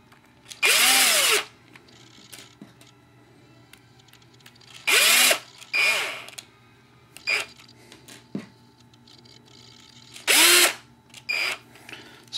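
A small electric screwdriver drives screws into a rotor mast in several short whirring bursts separated by pauses with faint handling clicks, close and clear with no talking.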